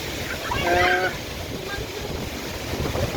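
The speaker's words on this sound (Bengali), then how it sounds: "আমি দেখাচ্ছি কি পরিমাণ তুফানের প্রবলতা বাতাস শো শো করে যে" Storm wind howls through a Dhaka street where traffic has stalled, a broad rushing roar with a brief louder gust early on and faint tonal whistles.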